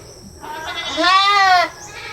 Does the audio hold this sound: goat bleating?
yes